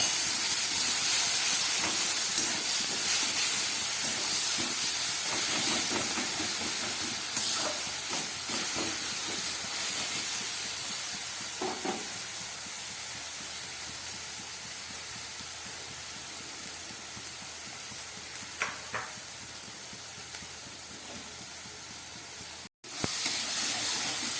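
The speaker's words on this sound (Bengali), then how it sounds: "পেঁয়াজের পেস্টটা অনেকটাই ভাজা হয়ে গেছে।" Onion paste frying in a pan, a loud, steady broadband hiss and sizzle that slowly fades over the stretch, with a few faint clicks and no speech.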